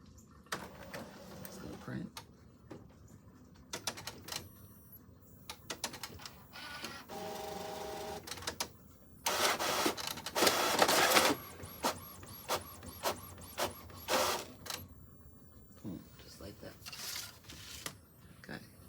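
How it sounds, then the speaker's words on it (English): A printer runs a file on stock paper with bursts of mechanical whirring, clicks and feed noises, quiet gaps between them, and a louder stretch in the middle. "and then I'm just gonna push print over here."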